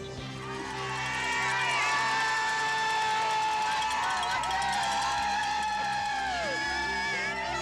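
Crowd cheering in an arena at a 1997 women's curling playoff between Schmirler and Goring, with Ontario fans rooting for Alison Goring's team from the Bayview Country Club, a broad sustained roar rising after the first second and holding steady throughout.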